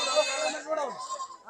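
A young lamb or kid bleats at a livestock market in Haveri, one drawn-out wavering cry close by that fades away.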